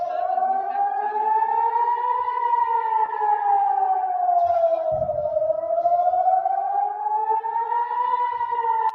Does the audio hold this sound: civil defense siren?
yes